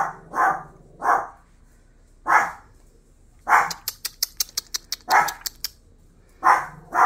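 A dog barks in a home with a family of dogs, giving several loud, separate barks with pauses between them, plus a quick run of short, sharp yips in the middle, close to the listener with no talking.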